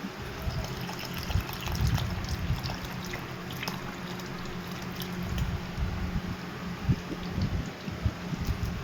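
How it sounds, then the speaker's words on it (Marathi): Drinking water being poured into a jar, a quiet, uneven trickling and splashing that carries on throughout with small gurgles and pulses. "हेच पाणी आपल्या ह्या जारमध्ये देखील आपण ओततोय"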